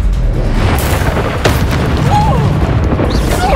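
Confringo spell blast in Hogwarts Legacy, a loud booming burst with rumbling low end and a sharp whoosh, followed by clattering debris and a short whistling tone.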